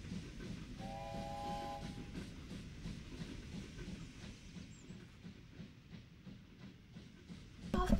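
A train in the video game Wobbly Life rumbles steadily with a rhythmic clatter, and a short whistle sounds near the start, all fairly quiet and without talk.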